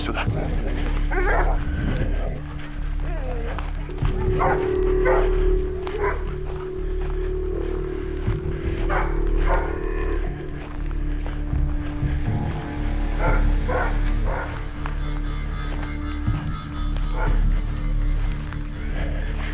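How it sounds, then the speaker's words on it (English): A chained dog barks repeatedly in irregular clusters over nearly twenty seconds near abandoned locomotives, with a steady engine-like drone running underneath throughout. "The dog on the chain barks."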